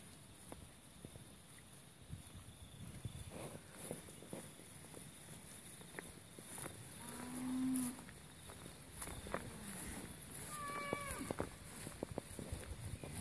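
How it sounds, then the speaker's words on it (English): Crossbreed Friesian-type dairy cows are herded outdoors, with footsteps, wind and a low moo among the shuffling herd, plus faint distant calls. "So our cows are crossbreed, slightly more on the Friesian side"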